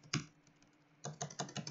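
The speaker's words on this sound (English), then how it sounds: "I'm clicking the spacebar so many times." A computer keyboard's spacebar hammered during an online game: one sharp click, a short pause, then a quick run of rapid, fairly quiet clacks close up, with no voices.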